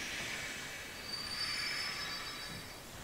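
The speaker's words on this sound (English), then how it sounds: "The train will be arriving shortly." Train wheels squeal in a steady high metallic screech as a train arrives in the Kingdom Hearts 2 video game, a continuous rail rumble underneath with no voices.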